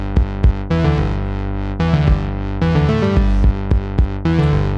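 Indie game soundtrack music with a heavy, distorted kick drum opening on four hits, followed by a dense driving groove of layered synths and drums that stays loud throughout, with no voices.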